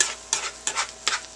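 A spoon fluffs boxed stovetop stuffing in a pot with three separate scraping, rustling strokes at an even pace, close and clear, with no voices.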